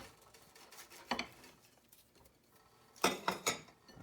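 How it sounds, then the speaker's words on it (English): A knife cuts through browned, freshly cooked food on a board. Soft scraping is followed by two short bursts of crunchy slicing and clatter, close but quiet, with no voices. "We're going to cut the finished product in half."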